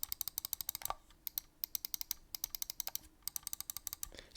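Side buttons on a Zowie FK2-B gaming mouse pressed in long runs of rapid, evenly spaced clicks, crisp and close up, with a couple of brief pauses between bursts.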